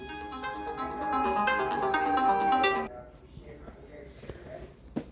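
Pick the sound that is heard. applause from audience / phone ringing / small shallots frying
phone ringing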